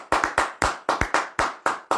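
A congregation clapping during a church service, about a dozen sharp, loud, closely spaced claps in an uneven rhythm with no talking.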